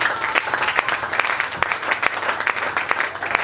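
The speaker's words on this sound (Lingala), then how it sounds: "Est-ce qu'on peut acclamer très fort pour le Seigneur?" A church congregation at a Sunday service applauding loudly for the Lord, dense rapid clapping from many hands filling the space steadily throughout.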